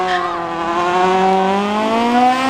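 Drag race cars launching off the start line at Oxford Plains Speedway spectator drags, a loud engine roar that climbs steadily in pitch through hard acceleration, close and continuous.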